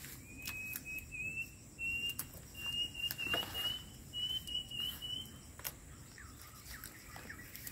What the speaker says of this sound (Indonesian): Suara burung sini merdu sekali suaranya